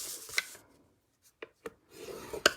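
A scoring tool drawn along paper for a card project makes a few short, crisp scraping strokes, close and quiet, separated by brief silences.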